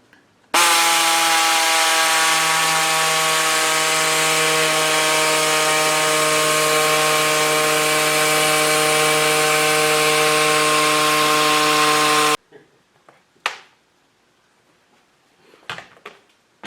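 A power saw cuts through a radiator's lower fan shroud during an electric fan install, a loud steady whine running about twelve seconds before stopping abruptly, followed by a few faint clicks and knocks.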